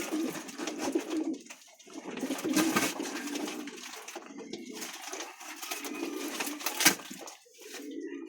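Imported Taiwan pigeons coo continuously nearby, a soft, throaty, overlapping murmur from several birds with occasional louder calls and some rustling.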